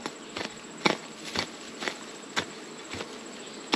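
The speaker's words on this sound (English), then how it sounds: "all the field bees are coming back and like, hey, what are you doing to our house?" Field bees return to an opened, unmarked beehive during an inspection, producing a faint, steady insect hum with scattered close rustles and knocks.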